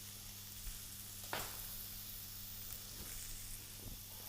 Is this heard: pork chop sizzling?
yes